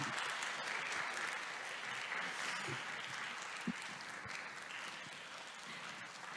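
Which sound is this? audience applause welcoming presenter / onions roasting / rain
audience applause welcoming presenter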